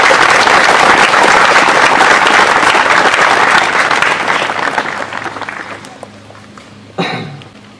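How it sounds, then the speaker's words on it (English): A Memorial Day ceremony crowd in South Lyon claps loudly for a man, the dense applause gradually thinning and fading over several seconds, followed by a brief thump near the end. "Yeah, give him a hand."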